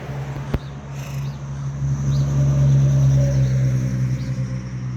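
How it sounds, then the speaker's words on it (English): Steady car traffic on a rain-wet road close by, a continuous rumble and hiss of tires that swells in the middle, with one sharp click near the start and no talk. "so it's always noisier when it rains as the tires, sort of do that suction thing"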